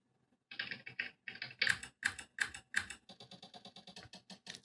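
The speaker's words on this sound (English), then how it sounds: "clicks for some UI stuff, clunks, keyboard hits in general" Computer keyboard key hits from a video editing sound effects pack, heard alone as quick bursts of crisp clicking and clacking with short gaps between groups, fairly quiet and close.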